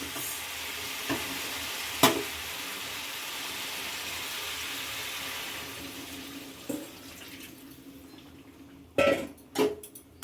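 Water is added to a pan of frying Bengali-style chicken curry, giving a broad hissing sizzle that gradually dies down, punctuated by a few sharp clanks of a utensil near the end.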